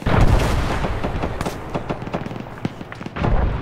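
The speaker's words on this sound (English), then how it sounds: "Mortars, baby." Mortar explosions in the Arma video game, a series of dull booms and cracking impacts landing close by in quick succession, with brief cheering over the barrage.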